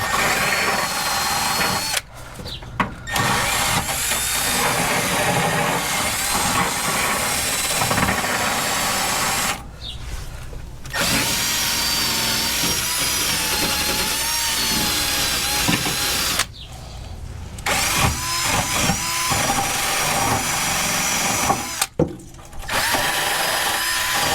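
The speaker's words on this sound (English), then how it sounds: "my wire brush. I'm going to attempt to clean this up a little bit, the threads" A wire brush scrubs tar-coated threads on a gas sending unit from a 1977 Chevy Nova Concours, a steady, close, harsh scraping that runs continuously with a few brief pauses.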